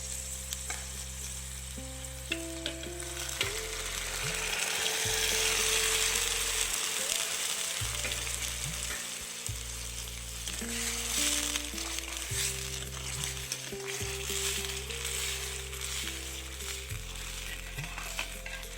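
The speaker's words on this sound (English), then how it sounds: "Now add the cooked dals to the curry and mix well." Cooked dals are stirred into a simmering multigrain daal curry, with a loud, steady sizzle and frying hiss under spoon movements and a low, sustained background tone throughout.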